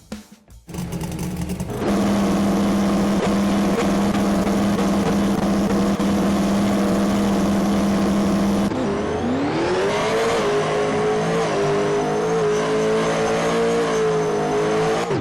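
Twin-turbo pro modified drag car in a racing game, a loud engine drone that holds steady, shifts up, then climbs again as the car keeps accelerating through the gears, with no voices.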